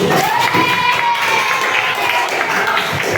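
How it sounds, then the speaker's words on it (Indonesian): Elementary school children clapping in a classroom during a coding lesson, a dense, continuous patter of many hands with crowd noise and a high tone, loud and close. "Tepuk tangan dulu."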